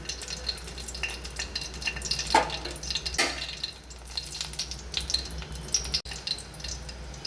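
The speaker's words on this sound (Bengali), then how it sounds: "তেলটা ভালো করে গরম করে নিয়ে শুকনো লঙ্কা দুটো গোটাটা ফেলে দিয়ে একটু ছিঁড়ে দিয়ে দিলাম।" Two whole dried red chillies sizzle in a little hot oil, making a steady close crackle with a few louder pops and spatters and no voices.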